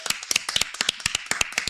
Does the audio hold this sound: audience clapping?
yes